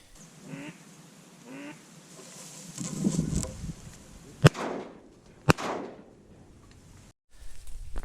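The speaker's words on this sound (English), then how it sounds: "Out here looking for this widgeon, and I've got ducks working." Widgeon ducks calling on a snowy duck hunt among cattails: a few short quacks and whistles early, then sharp shotgun-like cracks and rustling, fairly near, with no talk.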